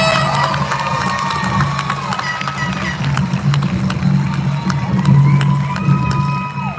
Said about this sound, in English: How about a big round of applause for them?